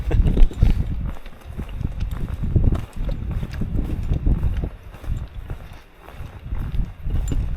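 Hooves of cows on a hillside walking route in the Brecon Beacons thud and scuff in an uneven, shuffling rhythm as the animals approach nearby, with wind in the background.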